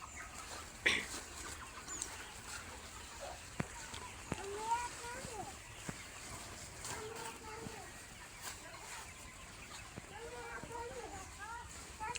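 Chickens cluck softly in a village yard, short scattered calls at some distance, under a steady outdoor hum with people talking nearby and a few sharp knocks.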